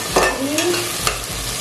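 Tomatoes fry in a pan over a high flame, giving a soft continuous sizzle broken by a few brief scraping stirs of a spatula.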